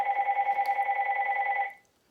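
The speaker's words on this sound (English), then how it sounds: "So, excuse this phone ringing." A steady electronic telephone ring, two bright tones warbling continuously for under two seconds before cutting off into silence.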